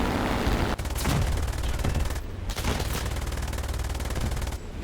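Sustained aircraft machine-gun fire in a World War II combat flight sim (War Thunder, Bf 109 E-7), a dense, loud continuous rattle of rounds over engine roar, broken by short gaps.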